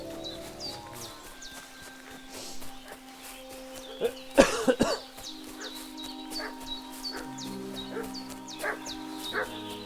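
A dog in Kingdom Come: Deliverance 2 barks and yips repeatedly from a middle distance over a quiet rural background with faint footsteps and a sharp loud burst near the middle.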